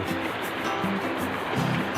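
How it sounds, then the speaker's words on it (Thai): Water flowing along a small forest stream where bamboo fishing lines are set, a steady continuous burble and rush close by, with no talk heard. "นี่น้ำไหลกำลังสวย"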